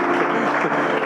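A conference audience applauds and cheers in a dense, steady wash of clapping that fills the whole moment without a break.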